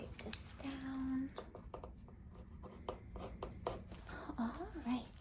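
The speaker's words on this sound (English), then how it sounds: "Let me just write this down." A pen scratching notes onto paper in a quiet medical exam room, soft and close with a brief rustling rhythm, while a voice hums lightly at moments.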